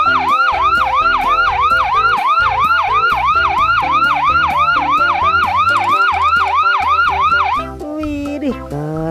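A loud, fast-wailing ambulance siren, from a toy ambulance snail, repeats in rapid rising sweeps over a musical backing, then cuts off abruptly near the end.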